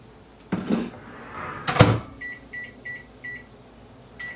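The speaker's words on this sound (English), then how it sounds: "I just pop this bowl in the microwave" A bowl clunks down inside a microwave and the door shuts with a firm thud, followed by a few soft electronic beeps in a quiet room.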